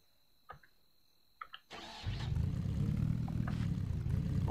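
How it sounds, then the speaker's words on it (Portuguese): Vehicle engine in the Scrap Mechanic survival video game: after a few faint clicks, the motor catches and settles into a loud, steady low roar that holds and slightly builds to the end. "Olha o barulhão, o ronco."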